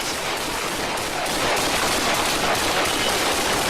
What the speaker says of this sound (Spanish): se ve el caos y la desesperación por cubrirse mientras intercambiaban disparos con el sospechoso